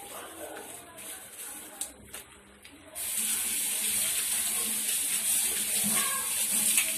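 Tap water runs into a sink as fish is washed, at first a lighter trickle under some kitchen sounds, then a loud, steady gush of water close by.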